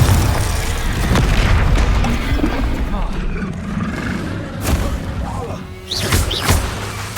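Glacius and Confringo spells are cast in the Hogwarts Legacy video game, producing repeated booming impacts and crashes amid combat noise, with a player's voice calling out over them.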